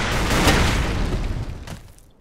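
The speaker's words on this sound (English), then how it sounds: "that grenade took forever" A grenade blast in the Ace of Spades video game, a loud broad boom that swells early and rumbles out over about two seconds before fading.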